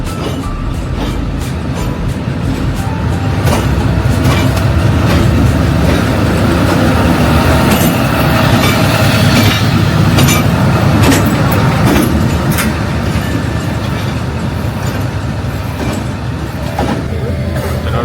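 A Shan State train running on rails on the Thazi to Taunggyi line, with a loud, steady rumble and rattle of the carriages that continues throughout, close and unbroken.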